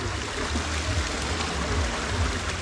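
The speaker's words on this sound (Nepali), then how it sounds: "यहाँ चाहिँ हजुर देख्नुहुन्छ वाटर फ्लो चाहिँ राम्रोसँग गर्नु भएको रहेछ" Water flows steadily through the channels of a trout farm, a continuous rushing, gurgling stream sound heard up close with no talking.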